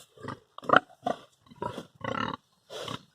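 Large pigs in tight pen quarters grunt in a series of six deep, close bursts, each short and guttural with brief silences between.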